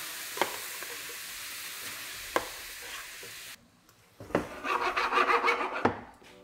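Spätzle and onions drop into a hot frying pan for cheese spätzle, and after a few soft knocks a loud, close sizzle flares for about two seconds before it dies back.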